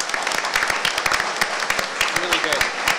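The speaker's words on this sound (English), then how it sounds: "Can we have a round of applause," Audience applause at a provincial political debate in Guelph, a dense crackle of many hands clapping steadily for the moderator, with a few louder individual claps standing out and some murmuring voices underneath.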